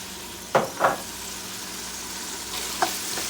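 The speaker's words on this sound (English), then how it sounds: "So you fry it together." Onions frying for beef stew, a soft steady sizzle with a few sharp clanks of a utensil against the pot, close by and without speech.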